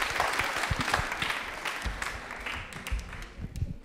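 A studio audience on a Rajasthani television quiz show claps steadily in a thick, continuous wash of applause, heard fairly close and without any clear talking.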